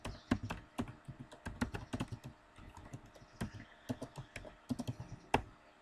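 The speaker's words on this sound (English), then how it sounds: "I'm just writing some random Python code here." Keys clatter in quick irregular bursts as someone types Python code on a computer keyboard, close and fairly quiet, with short pauses between runs of keystrokes.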